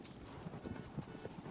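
Horse hooves clip-clop in a steady galloping rhythm from Tears of the Kingdom, mid-distance and continuous, with a voice briefly audible in the background.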